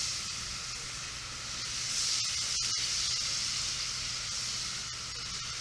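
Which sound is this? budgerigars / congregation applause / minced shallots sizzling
minced shallots sizzling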